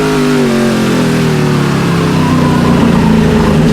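V8-powered Speedcar Series race cars roar past on a UAE circuit, a loud, sustained engine howl whose pitch climbs and shifts as the cars accelerate, with no voices heard.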